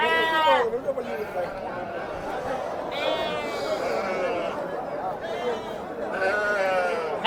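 Several goats and rams bleat loudly in repeated wavering calls, close by, over a background of crowd chatter at a market in Tirupati.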